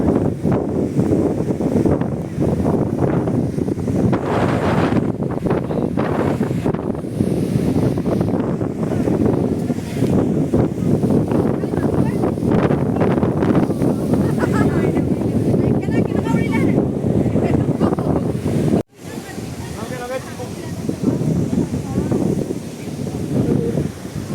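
Strong wind buffets the microphone at a riverside picnic spot in Panimur, Dima Hasao, a loud continuous rumbling roar with a brief cut near the end, while people talk over it.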